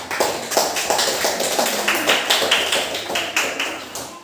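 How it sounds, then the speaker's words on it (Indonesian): A classroom group claps together during a teaching-practice session, a steady, even run of sharp close hand claps lasting several seconds with no voices. "Kita berikan tepuk tangan dulu."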